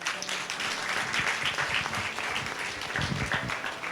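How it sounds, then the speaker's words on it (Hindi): Church congregation applauding together during a Hindi sermon, a steady wash of many hands clapping that stays fairly even for the whole stretch, with a slight swell near the end. "ताली बजाएंगे।"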